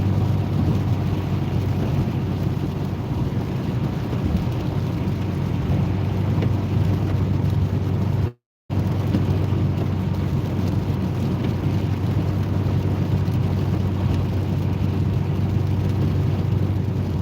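A car rolls gently around a curve with a steady, even road and engine drone that stays constant throughout, except for one very brief dropout near the middle.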